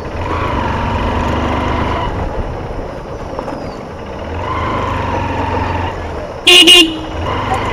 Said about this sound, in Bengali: প্রতিটা মোড়ে মোড়ে হর্ন ইউজ করবেন